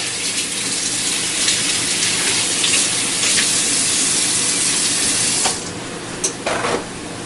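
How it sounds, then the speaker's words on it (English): Tap water runs steadily from a kitchen faucet as hands are washed, a close, continuous broadband rush that eases slightly near the end, with a few brief splashes and clinks. "I'll wash my hands."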